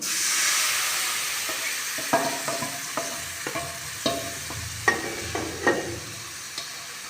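Lentils frying in a pan while being stirred, a steady sizzle under a series of distinct scraping and knocking strokes of the utensil against the pan.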